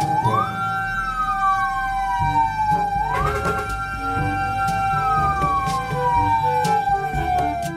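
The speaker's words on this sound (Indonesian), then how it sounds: "ini mainan mobil-mobilan pemadam kebakaran water cannon." A toy fire engine with a water cannon sounds its electronic siren, a loud, steady wail that sweeps up and slowly down again and again, alone and close, with faint plastic clicks mixed in.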